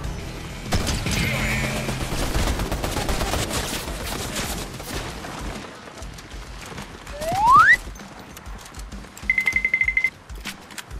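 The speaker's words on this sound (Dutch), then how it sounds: "er wordt geschoten" Gunfire from the video game Fortnite crackles in a dense stretch of rapid shots over game noise, followed by a rising tone and a short beeping alert, with no voices.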